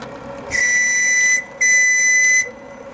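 Two long, loud steam whistle blasts from a JMC whistle on a radio-controlled model steam tug sound back to back, each about a second long, bright and shrill with a brief gap between them.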